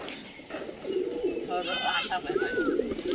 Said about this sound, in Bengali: এটা আবার কার পায়রা আসলো?